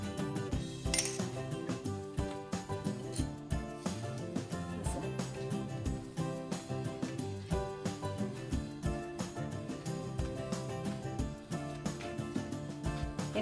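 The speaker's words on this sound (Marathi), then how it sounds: "तर असं पूर्ण मिक्स करायचं याला." Suji barfi mixture is stirred in a pan, a run of quick metallic clinks and scrapes from the utensil against the pan, tapping at a steady uneven pace, close and fairly quiet.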